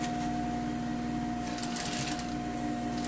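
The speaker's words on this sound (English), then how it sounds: "I'm pushing the fabric to make sure I grab only this side of the pan, and I'm sewing down" A sewing machine runs steadily, stitching down the front fly of a pair of trousers, its even mechanical hum continuing close by and moderately loud from start to finish.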